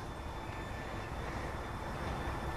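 A helicopter engine starts up in a scene from the sci-fi film Edge of Tomorrow, heard as a steady, dense, close mechanical roar that fills the whole clip without any voices.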